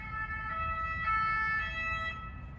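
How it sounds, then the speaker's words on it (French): A wailing emergency siren rising and falling steadily over a low traffic rumble, moderately distant. "il y a une ambulance qui passe, ou un pompier"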